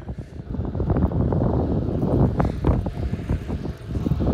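Wind buffets a cyclist riding near Bajo Caracoles in Patagonia, a continuous rough rumble with gusty surges, close and fairly loud throughout, with no voices.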